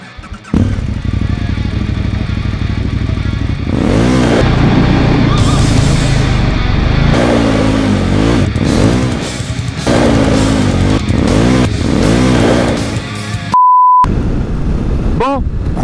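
A KTM 1290 Super Adventure R motorcycle is ridden, its engine droning loudly throughout with rising and falling revs as it accelerates through the gears, close to the microphone with heavy wind rush.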